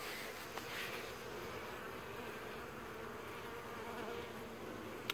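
Honey bees buzz around a beehive in a dense, continuous hum of many wings, steady and fairly faint, with no voices.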